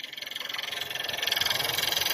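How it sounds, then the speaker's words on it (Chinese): Rapid, steady rhythmic ticking from a 2014 Volkswagen Lavida's EA211 1.4T engine with the hood open, recorded close over a continuous engine hum, with no voices. "那就是这种有节奏的哒哒哒声音。"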